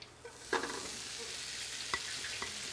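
Oil sizzles in a pan while a potato pancake fries, a steady soft hiss with a few sharp clinks and scrapes from a utensil.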